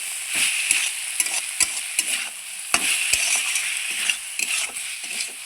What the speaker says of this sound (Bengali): এবার এই বেগুনটা দিয়ে আমি নাড়চাড় করে নেব খুব সুন্দর করে